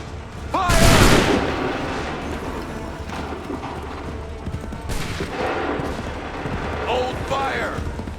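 A line of soldiers fires a musket volley in Assassin's Creed III, one loud crackling burst of shots near the start followed by scattered further reports, smoke-filled rumble and shouted commands over battlefield noise.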